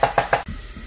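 Chopped onion sizzling in a teaspoon of oil in a small pot, heard as three quick stirring scrapes over a steady soft sizzle.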